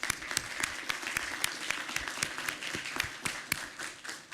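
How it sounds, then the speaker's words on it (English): Attendees at a transportation policy board meeting applaud staff, a steady round of many hands clapping with sharp individual claps standing out, fairly close, heard alone. "Give a big round of applause."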